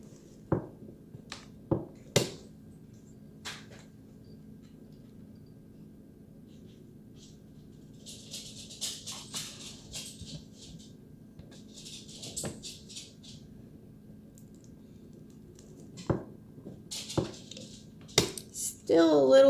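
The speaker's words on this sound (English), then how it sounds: "now we're going to go ahead and cut a few bars of this soap for you guys" Bars of peppermint cream cold process soap being cut, giving sparse sharp knocks and scraping cutter strokes against a quiet background, with light handling clatter between cuts.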